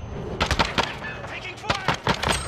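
Several sharp bursts of gunfire from Call of Duty: Modern Warfare 2, spaced irregularly across a couple of seconds, heard close and loud over game background noise.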